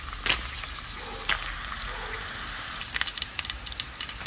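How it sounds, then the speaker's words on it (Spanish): Fifteen guajillo chiles frying in plenty of oil in a pan give a steady, close crackling sizzle, with sharper pops toward the end. "Miren, un sartén con bastantito aceite, vamos a poner 15 chiles guajillo"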